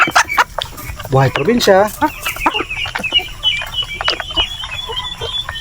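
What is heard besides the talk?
chickens clucking on a farm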